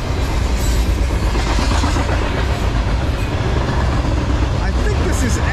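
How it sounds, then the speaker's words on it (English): A CSX freight orange juice train rolls past close by, a loud continuous rumble and rattle of wagons that stays steady throughout. "That orange juice train."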